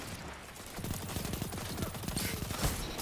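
Rapid SMG fire in a Destiny PvP match, a fast rattling string of shots over a dense, noisy game soundscape with no clear pauses.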